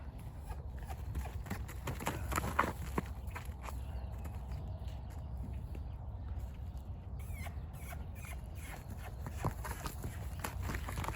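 A colt's hooves clip-clop softly and steadily on the ground as it walks during training, fairly distant and low in level, with a faint voice now and then and outdoor background noise.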